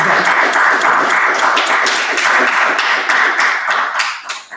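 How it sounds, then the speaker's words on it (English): A sustained burst of audience clapping and applause from a crowd, dense and continuous, fading slightly toward the end. "I hear all you clapping and all you agreeing"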